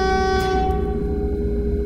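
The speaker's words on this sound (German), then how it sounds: "Mit der Leertaste die Hupe testen." A steady, loud horn tone with strong stacked harmonics holds throughout, a sustained Vienna tram horn in the game TramSim over a low rumbling hum.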